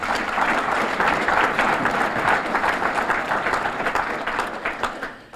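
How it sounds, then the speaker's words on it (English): Applause from an audience at a town address ripples through the hall in a full, sustained burst, then gradually fades out toward the end. "Let's give them a round of applause"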